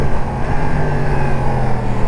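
A 2022 Yamaha MT-10 SP motorcycle engine with stock exhaust idles and revs steadily close by, a loud throbbing drone with a few small throttle blips.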